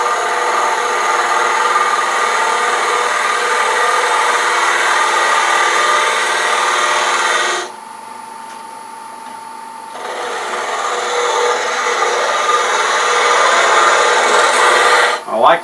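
A spindle gouge cuts madrone wood spinning on a lathe while an acorn box is turned, a close, loud, steady hissing shear that drops away briefly in the middle and then resumes.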